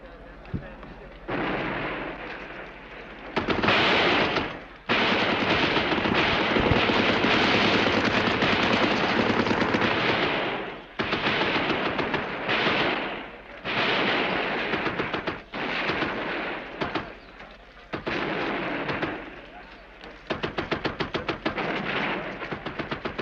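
Sustained bursts of gunfire during an attack on a sniper's rooftop bunker, dense rapid shots in long loud volleys broken by short gaps, with a voice speaking at times.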